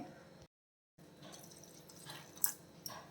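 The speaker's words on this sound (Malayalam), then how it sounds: "ഞാനിത് കുറച്ച് വെള്ളം കൂടെ ചേർക്കാമേ" Water is poured into a mixer grinder jar holding ground horsegram batter for dosa, giving a soft, close trickle with a few brighter splashes toward the end, after a brief silent gap near the start.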